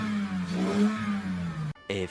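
A Lexus GS300 with a swapped engine runs and revs, a steady droning engine note rising and falling, close and loud, broken by a brief drop-out before it picks up again.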